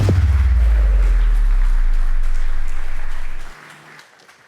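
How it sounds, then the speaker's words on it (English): Audience applause as a speaker comes on stage at a tech talk, steady clapping over a loud booming low-frequency music sting that fades out near the end, leaving quiet room sound. "please, a round of applause for Frank"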